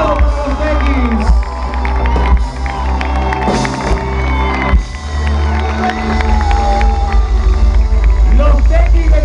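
A large crowd at a folk music festival in Salamanca, Argentina cheers and shouts loudly, with whoops and a lively roar that stays energetic throughout.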